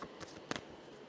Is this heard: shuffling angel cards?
yes